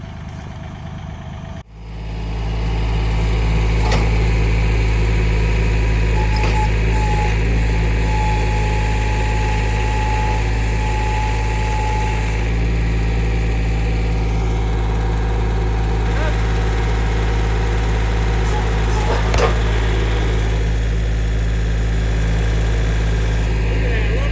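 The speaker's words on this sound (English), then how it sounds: "I may just see if I try to pick it up with the tractor" A heavy tractor engine idles loudly and steadily after starting up, a constant low rumble that holds for a long stretch.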